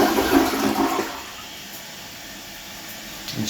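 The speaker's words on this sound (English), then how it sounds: "So just flush it once," A household toilet flushes after a base leak repair and reset, a loud rushing swirl for about a second that drops into a quieter steady hiss of the tank refilling, with no talk.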